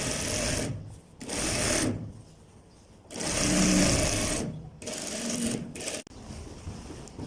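A sewing machine stitching pieces of a men's pajama runs in close, whirring bursts of a second or two each, with brief quiet pauses between runs.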